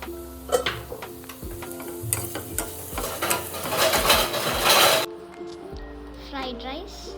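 Fried rice stir-fried in a pan, with scraping, clattering spatula strokes and a steady sizzle, growing busier toward the end before cutting off; a person talks over the cooking.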